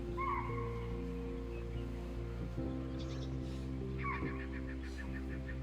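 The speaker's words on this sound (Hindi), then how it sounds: "और तभी हमको भी अलार्म कॉल सुनाई दी" Faint honking animal alarm calls sound twice in the distance during a morning safari in Jim Corbett's Jhirna Zone forest, short repeated cries over a low engine-like drone and quiet background.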